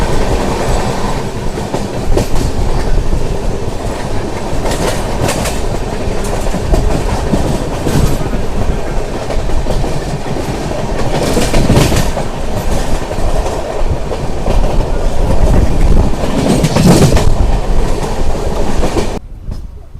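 Bokaro Express rolling on after departing Samalkot junction, a loud steady rumble of wheels with rhythmic clickety-clack throughout, ending abruptly.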